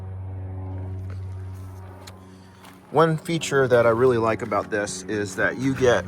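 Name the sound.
airplane flying overhead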